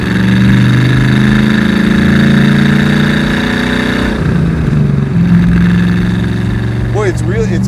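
DeTomaso Pantera sports car engine running with a loud, steady mid-pitched drone that shifts slightly in tone partway through, heard from inside the car while people talk over it.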